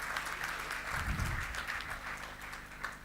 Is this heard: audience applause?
yes